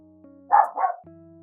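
Two quick sharp barks from a dog indoors, close and fairly loud, over a faint steady electronic hum.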